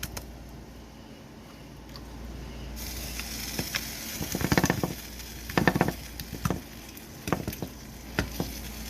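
Pork chops fry in about a tablespoon of olive oil in a non-stick pan, a steady close sizzle broken by louder bursts of spattering and crackling as the meat is moved.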